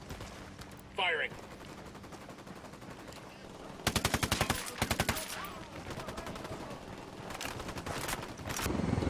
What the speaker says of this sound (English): Fire, fire, fire! Firing.